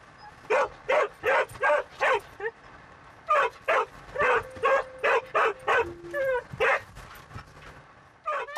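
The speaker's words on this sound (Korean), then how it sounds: "그런데 맞은편에서 차가 오자 다시 짖기 시작하는데요." A border collie in the rural countryside barks at a passing car, letting out loud, close yapping barks in quick bursts of three to five with short pauses between, plus a brief whiny yelp partway through.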